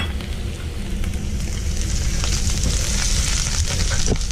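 Minced garlic and radish frying in a hot pan while being stirred, a steady loud sizzle with scraping stir sounds, no talking.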